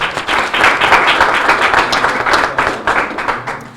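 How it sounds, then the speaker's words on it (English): Applause from an audience at a press event, a loud, dense burst of many hands clapping close by that rises quickly and holds steady for several seconds before thinning at the end. "let's give a round of applause for all of our Renaissance School leaders"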